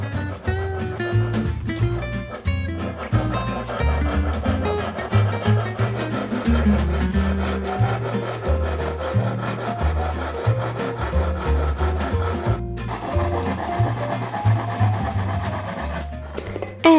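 A hand saw cuts a wooden board for the tenon of a mortise and tenon joint on a hand-carved book stand, no power tools used; steady rhythmic rasping strokes repeat close by for the whole stretch.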